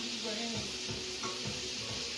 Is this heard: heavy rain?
no